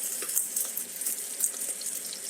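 An egg fries in hot oil in a pan, a faint, steady crackling sizzle with scattered pops running throughout, no voices.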